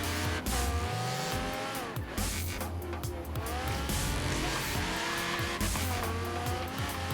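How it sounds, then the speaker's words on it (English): A Ferrari races in Forza Horizon 3. Engines rev hard and shift through the gears with rising and falling whines, and tires squeal and skid at close range, loud and continuous. "So, closing on this Ferrari. It's giving me a good race."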